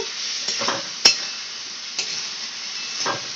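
Spice paste fries in oil for dhokar dalna, a soft continuous sizzle broken by several sharp metallic clinks and scrapes of a stirring utensil against the pan.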